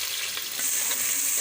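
Bay leaves, cinnamon, cloves and green chillies fry in hot oil, making a dense, continuous bright sizzle that swells slightly partway through the short stretch.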